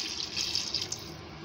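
Water poured from a glass into sautéed food in a frying pan, a steady close hiss and splash lasting about a second and a half before tapering off.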